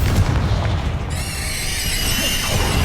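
A Confringo fire-blast spell cast in the Hogwarts Legacy game gives a loud, booming explosive burst, followed by a sustained crackling, whooshing rumble that lingers for a few seconds.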